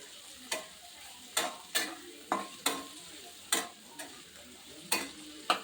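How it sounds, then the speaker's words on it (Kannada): Chopped onion roasting in a pan for a village-style karchikai palya is stirred with a utensil, giving about ten sharp, close scraping taps over a soft, steady sizzle. "ಸ್ವಲ್ಪ ಕೆಂಪಾಗೋವರೆಗೂ ಸ್ವಲ್ಪ ರೋಸ್ಟ್ ಮಾಡಿ"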